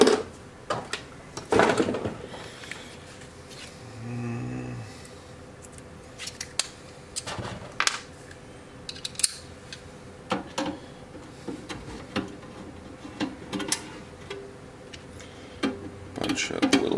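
An old Knight KG-650 RF generator is taken apart with a screwdriver: sparse, quiet metallic clicks, taps and small clatters of tools and screws come at irregular intervals over a faint background.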